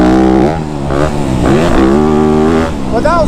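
Yamaha YZ250F dirt bike engine lugging at low RPM on a track, a loud close harmonic drone that wavers and rises in short revs, with a brief higher rev near the end.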